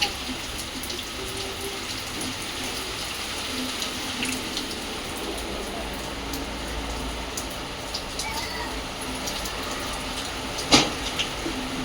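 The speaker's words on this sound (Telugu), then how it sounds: "ఇంకా వాన మామూలు బీభత్సంగా పడుతుంది" Heavy rain pours steadily, a dense broadband hiss of drops on surfaces lasting throughout, with a brief louder knock near the end and no clear talk.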